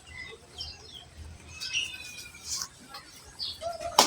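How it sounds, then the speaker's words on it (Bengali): Pigeons being fed outdoors make scattered chirps and soft coos with brief bursts of flapping wings, fairly faint over a quiet background. "হ্যাঁ কবুতর আসো আসো।"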